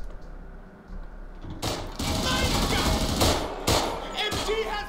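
Machine-gun fire in the World War II shooter Raid WW2 comes as loud, dense bursts of rapid shots with brief gaps, over a rumbling game background.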